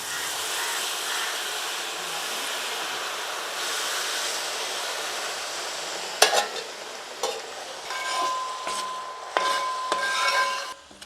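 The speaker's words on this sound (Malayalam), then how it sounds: "ഉരുക്കി അരിച്ചു വെച്ചിരിക്കുന്ന നമ്മുടെ ശർക്കരപ്പാനി അങ്ങോട്ട് ഒഴിച്ചു കൊടുക്കാം" Strained jaggery syrup goes onto grated coconut in a pan, with a steady hiss and bubbling at first, then louder, uneven scraping and stirring strokes near the end.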